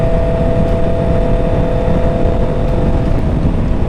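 Honda CBR650R motorcycle engine pulling hard in fifth gear at about 40 mph, a loud steady roar with heavy wind rush, no talking.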